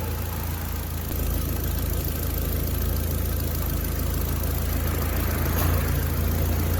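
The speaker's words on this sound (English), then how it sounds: "and the compressor just kicked on" A 1999-2005 VW Jetta MK4 idles with a steady, close engine hum, and a slight rise in level early on marks the A/C compressor engaging.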